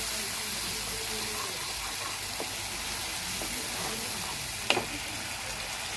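Onions frying in a pan until well browned make a low, continuous sizzle and hiss, with a few faint stirring taps and one sharper clatter near the end.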